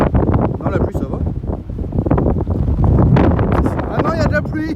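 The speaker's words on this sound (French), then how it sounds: "il y a beaucoup de vent" Strong wind buffets the microphone outdoors in Normandy, a constant rough roar running under people talking nearby.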